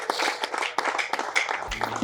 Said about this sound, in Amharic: እልልታና ጭብጨባ ለኢየሱስ ይሁን።